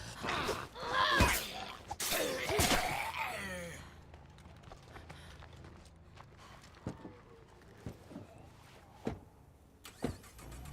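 Engine of a van in the video game State of Decay 2 revs loudly early on with clattering bumps, then settles into a quieter rumble punctuated by sharp knocks and thuds.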